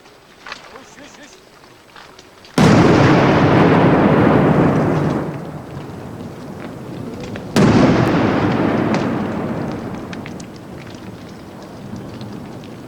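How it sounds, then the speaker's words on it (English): Two sudden deep explosive blasts in an emerald mine in Afghanistan, each followed by a long roaring rumble that slowly fades, loud and close. "The result of all the explosions can be stunning."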